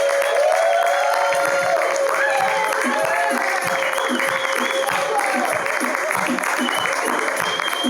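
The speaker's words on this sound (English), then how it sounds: "first round of applause for our friends from Miami, Florida." Crowd applause and cheering at an improv festival show for a troupe from Miami, Florida, a sustained roar of clapping with shouts and voices layered through it, a rhythmic thump pulsing underneath.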